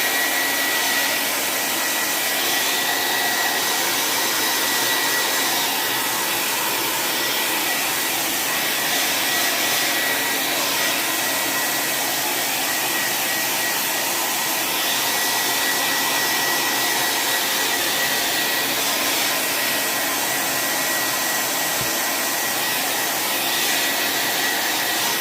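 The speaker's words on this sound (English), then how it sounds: "I'm going to take the blow dryer to it real quick" A blow dryer roars continuously at close range while drying a chalk-stenciled craft tray, a loud steady airy whoosh with slight wavering, no voices.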